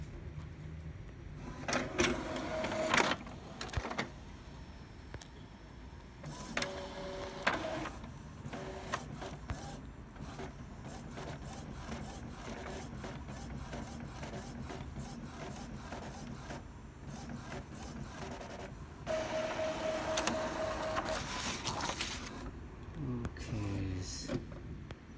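Epson L3110 ink tank printer working through a print head cleaning cycle, with intermittent mechanical whirring, clicks and carriage movements in bursts over a steady low hum, recorded close up.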